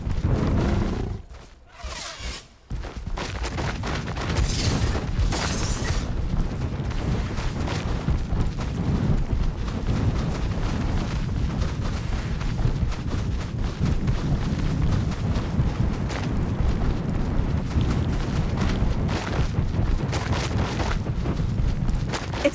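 A Confringo explosion spell in the video game Hogwarts Legacy bursts with a heavy roaring boom, then a long, dense, rumbling fiery roar that stays loud and steady for many seconds.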